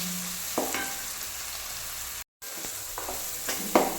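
Vegetables sautéing in a pan, a low steady sizzle broken by a few quick stirring scrapes, close and quiet, with a brief cut to silence midway.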